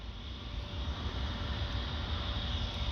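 An Air France Airbus A320 at Orly airport, Paris, moves into position on the runway for takeoff, its jet engines a steady broad roar with a low rumble, continuous and unbroken.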